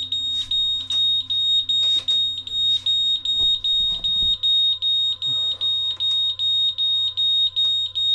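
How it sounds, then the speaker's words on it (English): A boat's anchor alarm going off at night, a loud, rapid, evenly repeating high electronic beep pulsing steadily throughout, with faint thumps and rustling beneath and no talk. "anchor alarm going off"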